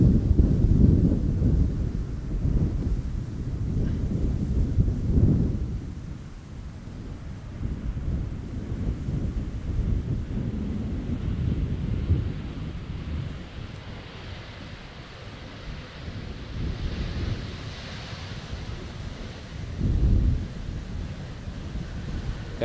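Strong wind buffets an outdoor microphone at Amsterdam Schiphol Airport, a loud rumbling roar that surges in heavy gusts and eases between them, with no voices.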